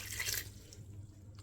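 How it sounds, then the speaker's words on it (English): Water poured into a slow cooker over onions and mince, a brief close splashing trickle that fades to a quiet drip. "So we are going to add some water"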